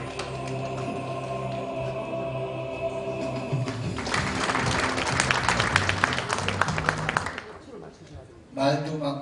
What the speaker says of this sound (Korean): 여러분들의 큰 박수로 답례해 주시면 고맙겠습니다